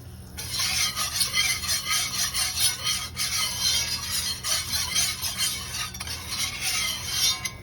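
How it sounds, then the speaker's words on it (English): A spoon scrapes steadily around a pan while stirring a roux for shrimp and sausage étouffée, a continuous close rasping over a low background hum, with no talking. "just want to make sure you keep scraping the sides down"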